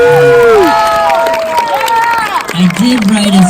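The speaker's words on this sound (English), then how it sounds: "Can we give them a round of applause, please?" Audience cheering and applause at an elementary school 5th grade graduation ceremony, loud and close, with excited children's high-pitched shouts and whoops over crowd noise and scattered clapping.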